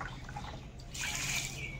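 Water splashes and trickles onto the base of a mango tree, a soft close pour that grows fuller and steadier partway through, with no voices.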